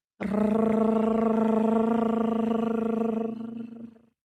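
A rolled tongue trill sustained for around four seconds, a steady rattling buzz on one pitch that fades slightly at the end.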